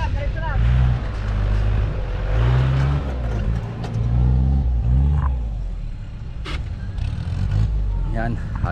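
A Willys 4x4 jeep engine revs hard at an offroad challenge, its low rumble rising and falling in repeated surges, loud and close. Background voices talk over part of it.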